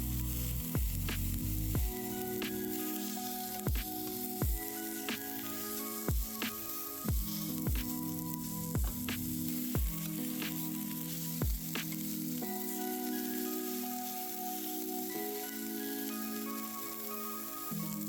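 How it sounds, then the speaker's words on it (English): Pork tenderloins fry in a pan with a continuous close sizzle, broken by a steady run of sharp clicks and taps from turning or stirring, and no one speaks. "Flip your tenderloins as soon as they start to golden on one side."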